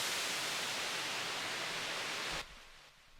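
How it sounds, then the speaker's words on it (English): A dense, loud white noise swept through a filter to build tension in a minimal techno track, holding steady before cutting abruptly to a quiet tail. "modulate this white noise to have a sweeping effect"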